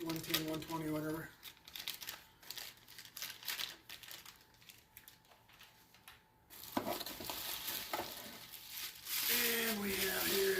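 A bubble wrap bag from a Canon EOS Rebel T100 camera box crinkles and rustles in close, irregular bursts while a person talks over the handling.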